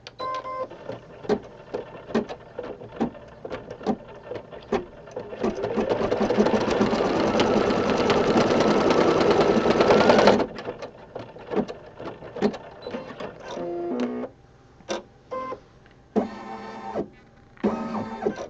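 An embroidery machine stitches a Valentine hug rug design, with sharp repeated clicks and taps before and after a sustained whirring run of a few seconds, close by.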